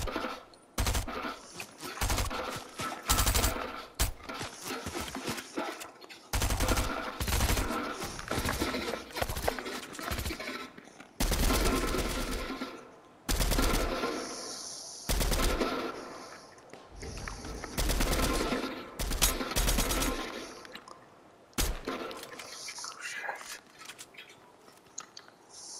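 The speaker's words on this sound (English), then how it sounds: "They're shooting somewhere." Bursts of gunfire in the Fortnite video game, rapid cracking volleys in irregular clusters separated by short gaps, fairly loud and sustained over the whole stretch.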